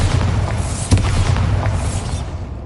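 A Bombarda spell detonates in Hogwarts Legacy with a short, deep boom over a dense rumbling bed, loud and close.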